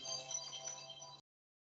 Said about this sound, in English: That'll be Willie's phone